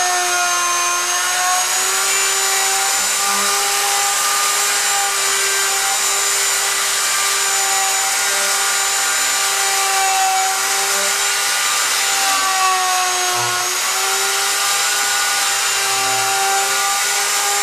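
Inexpensive handheld router cutting joints in a wooden rocking chair seat, a steady, loud high-pitched whine that holds constant for the whole stretch with slight pitch wobbles as it bites into the wood.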